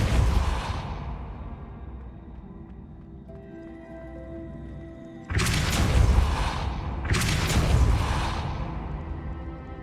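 A Depulso spell cast in Hogwarts Legacy, with two loud whooshing blasts in quick succession that follow a decaying burst and a quieter tonal hum.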